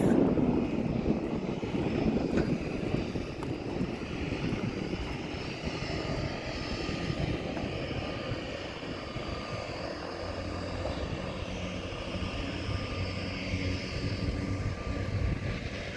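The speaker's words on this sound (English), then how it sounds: "The seaplane looks like it's taking off." A seaplane taking off, its propeller engine droning as a steady, fairly loud broadband roar that holds evenly across the whole stretch, with no voices over it.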